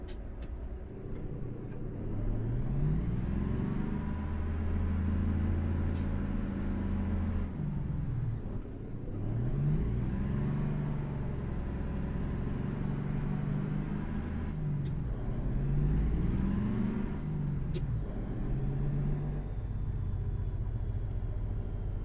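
An old Mercedes Type L truck in Euro Truck Simulator 2 pulls away, its diesel rumbling low and steady as the engine note rises and drops with several gear shifts, close and continuous.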